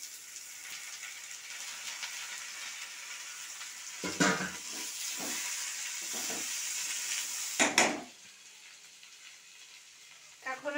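Potatoes and green chillies frying in a pan with onion, garlic and chilli, a quiet steady sizzle broken by a few louder stirring clatters.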